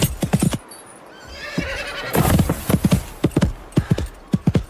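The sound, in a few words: horse galloping and neighing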